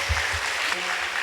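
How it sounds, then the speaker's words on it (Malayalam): A congregation at a church worship gathering claps together, a dense, steady wash of applause filling the whole moment. "ഒരിക്കൽ കൂടെ കർത്താവിന് ഒരു കയ്യടി കൊടുക്കാമോ?"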